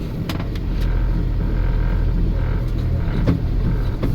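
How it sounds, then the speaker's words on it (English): A pickup truck drives slowly around the perimeter of a high-voltage transmission substation yard, giving a steady low engine rumble with light road and gravel noise throughout. "I can get the truck around the whole yard"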